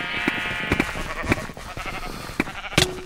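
Sheep bleating in the Minecraft game, several short bleats in quick succession, fairly close and clear over a busy game background.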